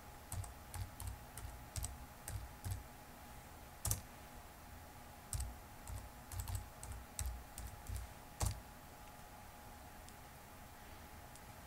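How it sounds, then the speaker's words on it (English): Computer keyboard typing a confirmation word and a passphrase in a Linux terminal: irregular runs of soft key taps with a few sharper strikes, steady quiet clicking for about nine seconds, then near silence and a final tap. "Type yes in all capital letters, and type in your passphrase"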